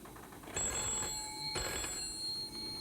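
An office telephone rings with two bright, sustained bursts of electronic bell tone, loud and close, taking an order call at the Akai sales desk.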